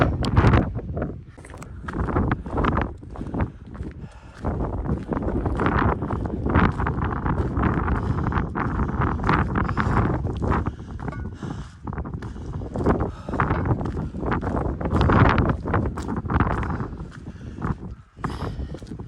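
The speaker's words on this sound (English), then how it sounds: "It's windy up here." Strong wind gusts buffet the microphone on the summit of Mount Pierce in the White Mountains, in heavy, rumbling bursts that rise and fall throughout, with no voices.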